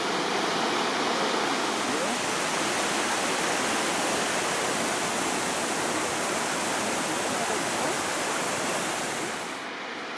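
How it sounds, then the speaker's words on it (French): A waterfall in Lozère pours with a dense, loud and constant rushing roar, close by and steady for the full length, easing slightly only in the final moment. "on s'approche tout doucement de la cascade"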